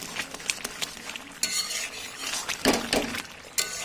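A spoon scrapes and clinks around inside a metal pot of dal curry with papaya and potato, in irregular strokes, close up, with a soft sizzle underneath and no talking.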